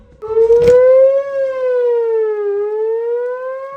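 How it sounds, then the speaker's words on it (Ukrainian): A loud tornado warning siren in California wails steadily with a rising then slowly falling pitch, sustained and alone, with rain-like noise at the very start. "Паде дощ, кричала сирена, наводить паніку на всіх."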